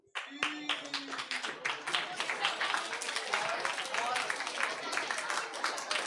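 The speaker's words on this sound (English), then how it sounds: "Please give them a big round of applause when they enter the stage." A school audience claps loudly for students walking onto a stage at a World Book Day event, a dense, sustained burst of applause that starts sharply and keeps going steadily throughout.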